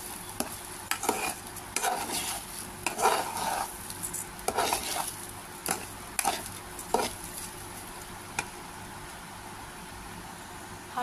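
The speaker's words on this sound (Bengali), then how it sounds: "গুলো নেড়ে চেড়ে ভাজা করতে হবে" Someone stirs polao rice in a pan with onion, cardamom and cinnamon, and the spatula scrapes in irregular, busy strokes over a low frying sizzle. Several close clinks and scrapes cut through, with no voices.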